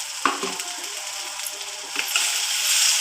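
Onion, garlic and green chili sizzle in a hot pan, with occasional scraping stirs; the frying hiss swells toward the end.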